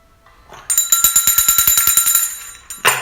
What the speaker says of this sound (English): Miss Aurorah had to ring the bell